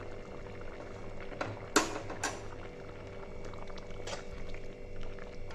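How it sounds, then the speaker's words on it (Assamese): Chicken gravy simmering in a pot, a steady low bubbling and hiss with a few sharp clinks or splashes partway through, alone with no talk. "এইখিনি ভালকৈ উতলাই পানীটো আৰু অলপ কমক ধুনীয়াকৈ"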